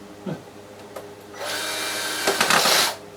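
A few short clicks, then a cordless drill on its lowest chuck setting whirs in two bursts, driving screws up close while reassembling a Sanyo MR-U4GP M7790 radio cassette player.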